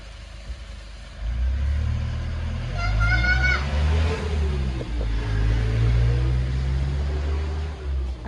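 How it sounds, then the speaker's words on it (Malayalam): A school bus pulls up nearby, a low diesel engine rumble rising and holding steady as it arrives, while someone talks over it. "ഇതാ നമ്മളെ മക്കളെ ബസ് വന്നു"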